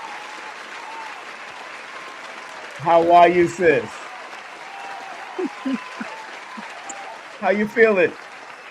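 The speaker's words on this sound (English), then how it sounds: "Let's give her a round of applause" Audience applause welcoming a guest speaker, a steady mid-level clapping wash running under two short bursts of talking from people in the room.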